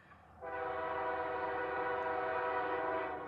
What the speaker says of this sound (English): Meeting the 604 at Race Pond would be another Central Florida freight train, calling as M457.